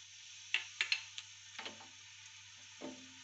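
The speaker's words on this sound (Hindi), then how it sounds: "इसमें हम प्याज फ्राई करेंगे।" Soft sizzling of onions frying in hot oil in a pot, with a few sharp clinks and scrapes of a utensil stirring, quiet and close.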